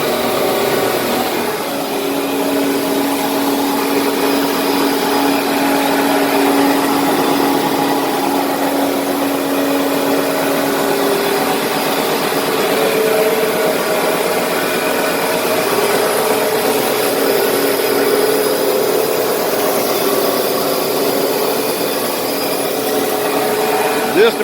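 Powermatic Timesaver wide belt sander running in a shop, a loud continuous whirring drone that holds steady throughout, close by, with no pauses.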